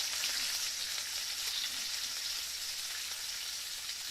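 Steady, bright sizzling crackle, like food frying in hot oil, continuous and fairly loud with no voices.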